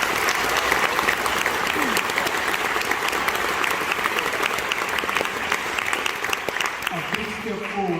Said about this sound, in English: Everybody give yourselves a round of applause for what you seek to do.